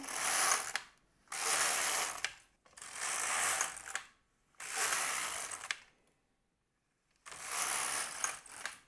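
An LK-150 knitting machine carriage swept back and forth across rows of needles, each pass a loud ratcheting, clattering rasp of a second or two, separated by short silent pauses, five passes in all.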